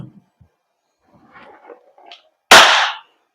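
A WE Glock 17 Force Series T5 airsoft gas blowback pistol fires a single loud, sharp shot through a chronograph, coming after a quiet stretch of faint handling noises and murmurs.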